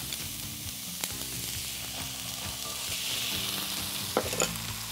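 Squid and pineapple with added tomato sizzle steadily in a hot pan as they warm through for a Chinese-style sauce, a continuous frying hiss broken by a few stirring clacks near the end, with no talking.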